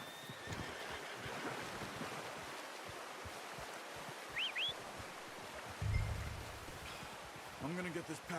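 A horse whinnies in Red Dead Redemption 2, a rising squeal near the middle followed by snorts and hoof noise over a steady outdoor wash of water, with a voice speaking briefly.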